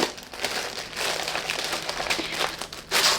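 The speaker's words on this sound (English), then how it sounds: "Next up, we have crinkling." Plastic bags from a cross-stitch kit crinkle and rustle close by in an unboxing, a continuous run of crackly handling noise with short louder bursts.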